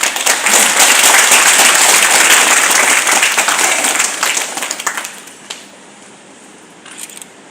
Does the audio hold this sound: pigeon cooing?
no